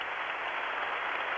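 A crowd at the 1988 Badminton Grand Prix Finals cheers and applauds the winner, a brief, steady wash of noise from a large indoor audience.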